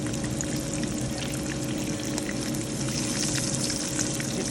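Zero-carb chicken tenders fry in hot oil, giving off a steady, dense sizzle and crackle that stays even and close throughout, with no voices.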